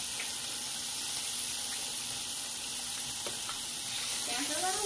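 Fish and shrimp fry in a hot skillet, a steady loud sizzle of bubbling oil running throughout with a few faint clinks near the end.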